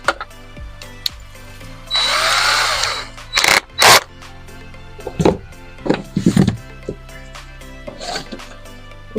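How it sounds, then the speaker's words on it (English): A power drill whirs for about two seconds drilling pilot holes in fiberglass on a boat, followed by several short bursts and knocks of tool handling nearby. "it's best to put pilot holes in fiberglass just to stop any cracking"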